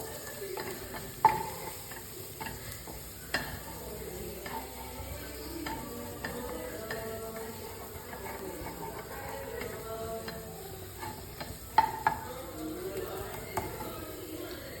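Ground pepper, onion and green chili fry in coconut oil in a pan, giving a low steady sizzle with occasional stirring clicks and scrapes throughout, fairly quiet.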